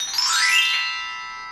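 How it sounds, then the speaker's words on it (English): A single mallet strike on a Ludwig or Mendini bell kit key rings out bright and clear, then decays smoothly over about a second with no other sounds. "we'll go ahead and test out the keys with some mallets"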